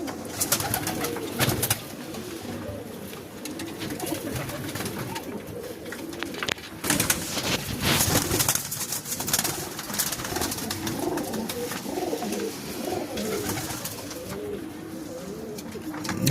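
Black Diamond pigeons cooing in a crowded loft, many overlapping low coos forming a steady murmur, with wing flaps and rustling throughout.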